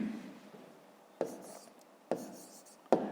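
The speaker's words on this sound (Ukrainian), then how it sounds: "Пишемо." Pen or pencil writing by hand on paper, faint scratchy strokes broken by three sharp taps or clicks spaced about a second apart, in a quiet room during a fifth-grade math exercise.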